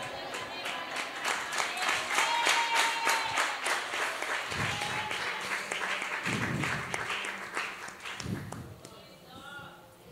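A congregation at a Sunday service in BFC Church, Tingre Nagar, Pune, claps together in steady, sustained applause, with a voice speaking over it and a few deeper thumps underneath.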